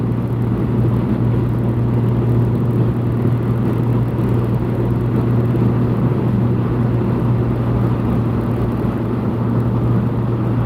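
Car cruising along a road on a regular commute, a steady close engine hum and low tyre rumble that holds evenly for the whole stretch with no voices.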